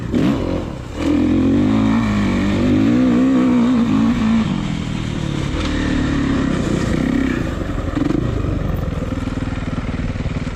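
A KTM 450 four-stroke dirt bike engine drones loud and close during a single-track ride, its revs rising and falling with a rough, continuous growl and no speech.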